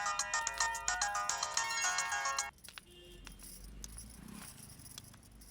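A bright electronic phone ringtone plays a looping melody for a couple of seconds, then cuts off, leaving quiet background noise.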